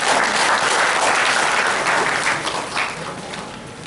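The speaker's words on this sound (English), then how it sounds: "Please, a round of applause." Audience applause at a university event, a dense and loud burst of many people clapping that slowly tapers off toward the end, with no voices heard over it.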